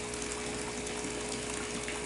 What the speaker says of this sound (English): I had this water going in there because I'm filling up